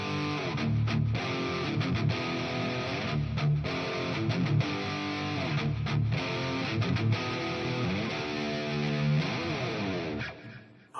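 Heavily distorted high-gain metal electric guitar, shaped by a noise gate and a compressor, plays dense sustained riffs and chords continuously at steady loudness, cutting off abruptly at the end with no voices.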